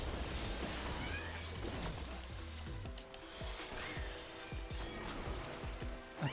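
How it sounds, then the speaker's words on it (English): A cat in the game Final Fantasy XIV meows a few times over a busy, layered background of game music and effects, fairly quiet overall. "I hate this cat so much."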